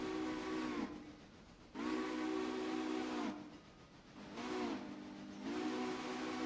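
A train sounds its whistle in four separate blasts, the longer ones steady, over a soft hissing rail background, heard at a distance with no voices.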